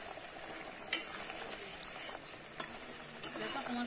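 Fried fish being stirred in curry gravy in a pan, soft simmering and sizzling with occasional sharp utensil clinks against the pan, fairly quiet and close.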